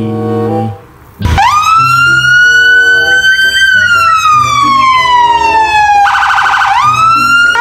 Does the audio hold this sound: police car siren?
yes